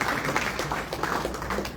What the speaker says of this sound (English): let's give a round of applause to the Dallas chapter